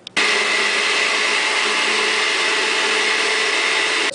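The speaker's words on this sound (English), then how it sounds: "I'm going to give it a quick pulse with the blender, just to kind of thin this out a little bit." A blender whirs steadily for about four seconds while it thins a bourbon glaze sauce for pork chops, a loud, even motor drone with a dense high-pitched whine and no voices over it.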